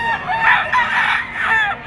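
Gamefowl bull stag rooster crowing at a Bocaue, Bulacan pet market: one loud, close, drawn-out cock-a-doodle-doo with a raspy wavering pitch, heard alone.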